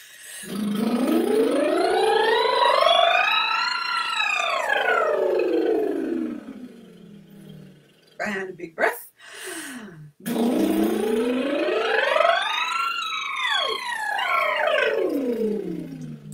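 A voice imitates a siren as a vocal warm-up, sliding smoothly up and down in long sweeping glides, twice, with a breath between them.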